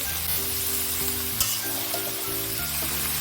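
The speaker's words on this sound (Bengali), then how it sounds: "এবার এগুলোকে একটু ভেজে নেবো, আমি গ্যাসটা বাড়িয়েই রাখবো।" Vegetables fry in a pan over a high gas flame, giving a steady, close, loud sizzle throughout with a couple of faint clicks and no talking.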